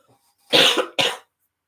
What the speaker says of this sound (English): I'm having a bit of a cough too